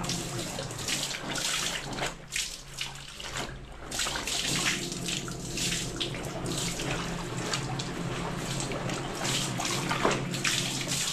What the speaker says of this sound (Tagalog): Punuin lang natin yung batya.